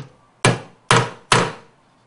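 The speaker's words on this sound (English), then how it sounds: "we're going to take our hammer and our center punch, and we'll go ahead and mark our hole locations" A hammer strikes a center punch three times to mark hole locations for installing a waste container, each blow a sharp close metallic tap with a short fading ring, spaced about half a second apart.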